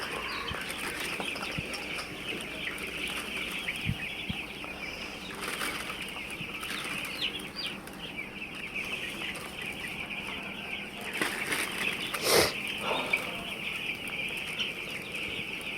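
Eight-day-old broiler chicks in a poultry shed cluck and cheep in a constant busy chorus, with scattered wing flaps and one louder call standing out near the end.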